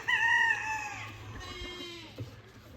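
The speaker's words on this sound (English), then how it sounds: "Look at them chickens going in and out there." Chickens on a farm, a rooster crowing loudly near the start, followed by softer clucking and fowl calls, with no talking.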